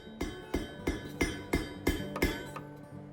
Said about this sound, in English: I'll lay it on the flat surface of the anvil and hammer it until the hook is flat.